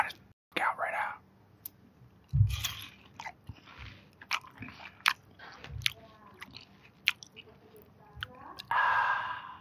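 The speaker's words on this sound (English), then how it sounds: "we're going to start off with some ASMR of me chewing some watermelon" Close, intimate chewing of watermelon: wet crunching bites and squishy mastication in irregular bursts, with soft whispering between and a louder crunchy stretch near the end.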